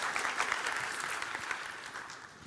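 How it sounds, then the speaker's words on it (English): Audience applause following a startup pitch at an AI summit in Malta, a steady dense wash of many hands clapping at moderate volume, filling the whole moment without pause. "Round of applause for Thomas, please."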